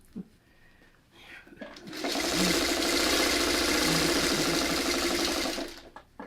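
Sewing machine stitching a pinwheel quilt block, running steadily for about four seconds at a fairly loud level, with a few light handling noises just before and after it.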